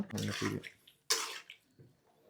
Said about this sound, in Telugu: ఇప్పుడు నీళ్ళు పోసుకున్నాం కాబట్టి